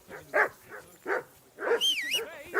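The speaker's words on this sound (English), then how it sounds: "Jesus, Henry, that barking's driving me nuts." A dog barks in three separate bursts near a riverbank campsite, then a high, wavering whine or yip rises at the end, close and fairly loud with no talk over it.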